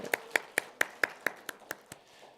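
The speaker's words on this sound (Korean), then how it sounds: "우리 신영주 집사님 이렇게 건강한 모습을 했는데 박수 한번 하도록 하겠습니다." A church congregation at a Sunday service claps in a slow, even rhythm of about ten sharp, evenly spaced claps, which fade slightly toward the end, close and clear with no talking.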